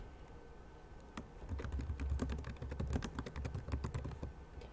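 Keys clatter on a computer keyboard as a topic name is entered in an online forum: a quiet pause, then a quick, dense run of close taps that keeps going steadily to the end, with no voices.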